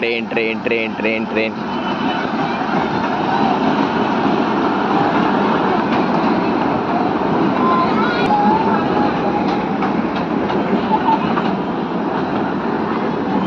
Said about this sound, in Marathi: अरे ती ट्रेन बघ रे सो ट्रेन बघ रे